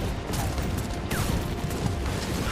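Cannon fire in the video game Final Fantasy XIV, a dense barrage of booming blasts and crackling explosions running continuously throughout, loud and heavy with no talk.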